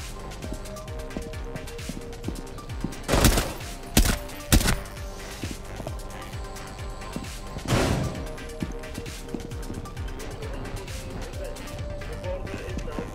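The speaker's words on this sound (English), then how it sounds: "I should probably be dead from the sound of that gunshot" Gunfire in Rainbow Six Siege during a solo Terrorist Hunt hostage extraction: a few sharp, loud shots in a short cluster, then another single blast, over quiet game ambience.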